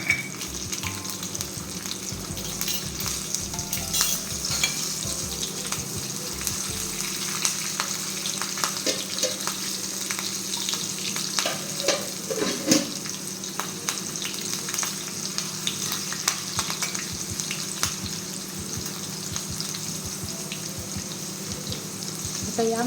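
Asafoetida and a few green chillies sizzle steadily in hot oil for a dhokla tempering, a continuous close crackling hiss with occasional louder spits and no talking.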